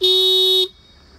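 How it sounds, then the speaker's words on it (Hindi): A Hero Super Splendor motorcycle's small horn gives one short, loud, close beep of about half a second, then cuts off into quiet. "ये लिटिल हॉर्न मिलता है"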